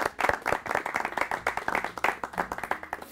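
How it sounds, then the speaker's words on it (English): Audience clapping after a quiz round on a game show, distinct hand claps packed into a fairly busy but uneven burst that continues for several seconds, with little talk. "Let's give them both a big round of applause."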